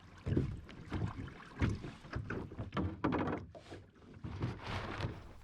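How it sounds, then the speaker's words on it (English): A sailboat with its sail down being paddled slowly to shore on a river, with soft, uneven splashes and knocks against the hull over light wind noise, fairly close and quiet. "after a recon sail by, we will drop sail and slowly paddle to shore."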